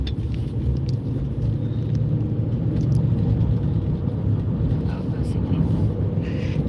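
A car rolls over a bumpy road near a roadwork site, giving a steady low rumble and road noise throughout while a person talks over it.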